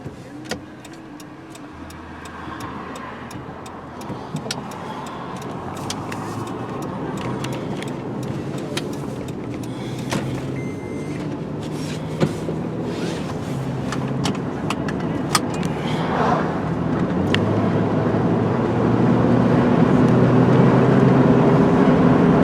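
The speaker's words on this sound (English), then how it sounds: "thought I'd just take you for a little ride down the road" A powerful car drives down a local road, recorded from inside as a steady engine and road rumble that grows gradually louder, with scattered small rattles and clicks in the cabin and no talking.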